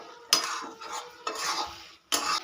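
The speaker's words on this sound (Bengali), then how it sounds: "ভাজা মশলাটা খুব ভালো করে মিশিয়ে নেব।" Roasted spice mix being stirred into jujube pickle with a spoon, three separate bursts of scraping and mixing, close and fairly quiet with short pauses between them.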